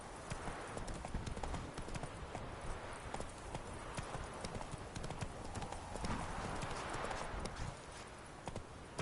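The horse Roach gallops in The Witcher 3: Wild Hunt, hooves drumming in a quick, continuous rhythm over a rustling outdoor bed at moderate distance, without clear speech.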